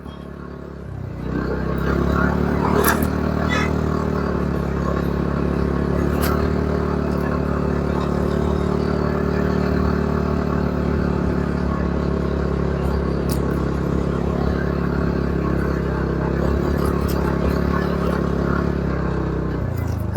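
A motorbike rides along a rough, potholed mountain road between Dharchula and Gunji in Uttarakhand, with a steady, loud engine drone, occasional rattles and knocks from the bumps, and no talking.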